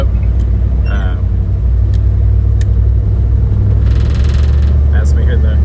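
A 1980 Jeep Cherokee with a 360 V8 and a rebuilt carburetor gives a loud, steady low engine rumble while driving, with someone talking over it.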